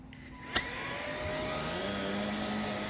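An ILIFE S90 Pro auto-empty station switches on after a sharp click and begins emptying a cordless stick vacuum's dustbin with a steady, loud whooshing motor roar that holds throughout.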